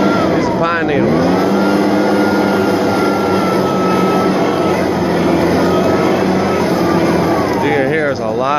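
Echo professional leaf blower running loud and close, a continuous roaring whoosh of air with engine pitch shifting briefly at the start and end, a voice speaking over it.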